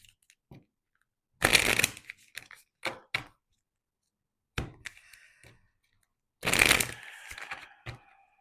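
Tarot cards are shuffled in two loud riffling bursts, close by, with scattered taps and clacks of the deck between them and brief silent gaps.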